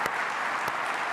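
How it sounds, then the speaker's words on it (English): Audience applause at an on-stage industry conference presentation, a dense even wash of clapping with a couple of sharper claps standing out. "Let's give a big round of applause."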